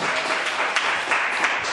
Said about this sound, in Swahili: Shangilia Bwana Yesu kwa makofi mazuri.